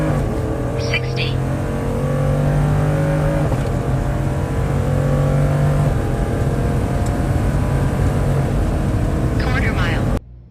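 A Ford F150 pickup accelerates hard through a quarter-mile drag pull. Its engine makes a loud, sustained roar that holds for about ten seconds before cutting off abruptly, with a voice audible beneath it.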